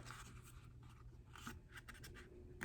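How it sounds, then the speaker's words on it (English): Paper being folded and creased by hand during a drawing lesson, a faint, close dry scratching and rustling with a few sharper crinkles. "Folded it like that, crease it down, and I fold it back up like this."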